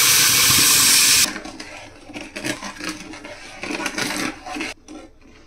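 Water poured into brown sugar in a pan while making caramel for a chocolate plum cake, a loud splashing pour for about a second, then quieter bubbling and clinking.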